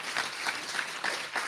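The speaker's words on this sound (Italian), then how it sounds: "vi chiedo un grande applauso, Michelangelo Frammartino." An audience at a film talk applauding for the director, a brief spell of dense, steady clapping from a crowd.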